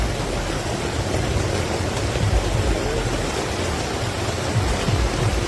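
Dime-sized hail pelts a Core 9-person instant cabin tent, a dense, loud, continuous patter and drumming on the fabric with scattered heavier thumps, no voices.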